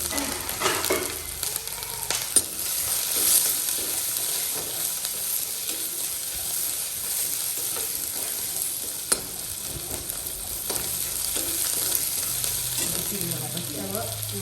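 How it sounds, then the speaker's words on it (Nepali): Onion and garlic frying in a pan for pickle, a steady broadband sizzle with occasional stirring scrapes throughout, fairly close and alone with no talk. "फर्स्टमा यहाँ प्याज र लसुन फुराउँछु"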